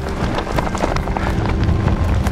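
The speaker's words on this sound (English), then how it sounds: "as you can probably tell, it's a bit breezy." Strong gusts buffet the microphone at Dinorwic slate quarry in Snowdonia, a loud, continuous roaring rumble with irregular thumps and flutters throughout, no voices.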